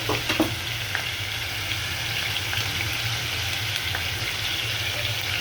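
Spices with ginger paste, green chilies and fresh river fish fry in a pan while being stirred, giving a steady close sizzle with a faint low hum and a few scrapes near the start.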